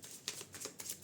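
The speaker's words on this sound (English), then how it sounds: "Maybe I will show you the shuffling." Tarot cards shuffled by hand in quick, soft riffling bursts, several short papery flutters in a row, close and quiet with no talking.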